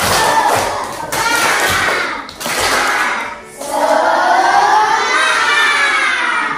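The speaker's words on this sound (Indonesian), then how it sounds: "sebelum belajar kita tepuk semangat" A primary school class doing a rhythmic spirit clap chant together, loud and close, with bursts of clapping and shouted group voices in a repeating pattern, briefly dipping before a final rousing section.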